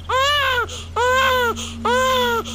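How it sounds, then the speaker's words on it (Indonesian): A baby cries in three long, loud wailing bursts separated by short pauses, with a steady low hum running underneath throughout. "Suara bayi yang menangis semakin keras."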